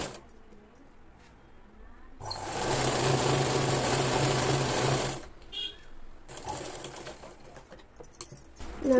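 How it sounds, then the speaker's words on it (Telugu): A sewing machine runs in a steady, loud whirring burst of about three seconds while stitching a double-folded hem on a Punjabi dress bottom, followed by quieter shorter runs and handling clicks. "ఇలా మొత్తం కూడా డబుల్ ఫోల్డ్ చేసుకుని స్టిచ్ చేసేసుకోవాలి."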